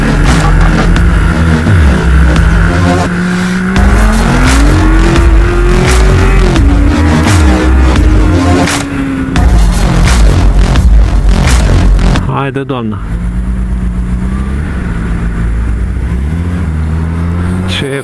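A Porsche sports car with a stock exhaust revs loudly and rumbles past nearby in a Bucharest street, engine pitch rising and falling, while people talk over it.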